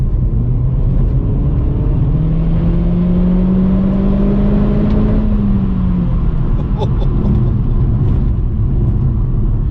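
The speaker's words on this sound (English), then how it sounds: "Right, let's build the revs up again." A Renaultsport Clio 220 Trophy hot hatchback engine revs up with a rising, then falling tone over a constant road rumble, loud and close, without voices.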